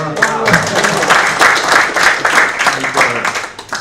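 Loud, close audience applause at a formal meeting session, dense rhythmic clapping sustained throughout, with voices faintly mixed in beneath.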